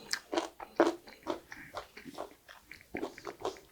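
Someone bites and chews crunchy, freshly pickled fatsia shoots (dureup jangajji), giving close, crisp crunches in a quick irregular rhythm that stand out clearly.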